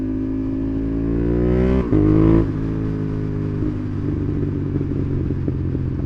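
A Honda CB750 Hornet motorcycle engine runs loud and close, holding a steady idle, then a short sharp rev blip around the middle before settling back into a rumbling idle.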